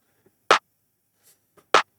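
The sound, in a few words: clap sample in a music production drum layer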